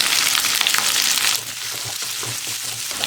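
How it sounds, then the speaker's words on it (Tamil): Chopped onions sautéing with a little salt in hot oil with curry leaves and dal for semiya upma, a loud, bright sizzle that drops back to a steadier, softer frying hiss halfway through, with no voices. "இப்போ வெங்காயம் போட்டுக்கலாம் வெங்காயம் வதங்கிறதுக்கு கொஞ்சமாக சால்ட் போட்டுக்கலாம்"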